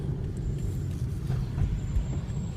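Steady low rumble of a car cruising along a road, a close, even drone of engine and tyre noise from inside the vehicle.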